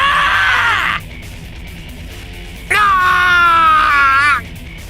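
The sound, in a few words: blood-curdling scream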